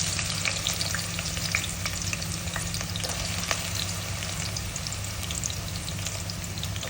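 Onions fry in a pan for a chicken dish, a steady close sizzle with soft stirring scrapes and a low background hum, no voices.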